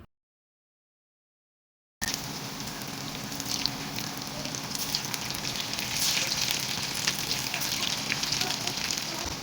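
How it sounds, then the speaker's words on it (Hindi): Kebab patties fry in hot oil in a pan, a dense, steady sizzle with crackling spatters that starts abruptly after a short silence and continues loud and unbroken. "अब हम दूसरे डाल लेंगे और दूसरे कबाबों को भी इसी प्रोसेस से दोनों तरफ से अच्छी तरीके से सेक लेंगे"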